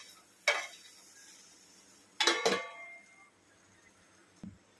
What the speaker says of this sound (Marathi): तर आपण हे झाकण आता बाजूला करून घेऊया.